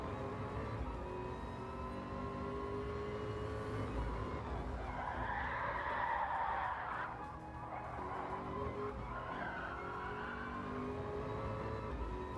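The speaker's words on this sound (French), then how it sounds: "on va passer un petit peu en on-board au sein de cette Ford GT40" Ford GT40 race car heard on-board in Gran Turismo Sport at the Kyoto Yamagiwa circuit, its engine roaring steadily throughout with tyre squeal rising in the middle.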